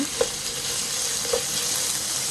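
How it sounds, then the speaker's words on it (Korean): Beef stir-frying fast in a little oil, a steady close sizzle with two brief scraping stirs of the pan. "기름을 약간 두르고요. 뭉치지 않도록 얼른 볶아줍니다."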